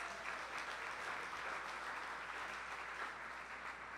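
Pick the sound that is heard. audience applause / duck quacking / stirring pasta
audience applause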